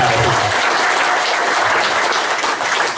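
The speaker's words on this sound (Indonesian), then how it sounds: "Kasih tepuk tangan yang luar biasa." Audience applause at a business seminar, a steady, dense clapping from a large crowd filling the room for about three seconds without pause.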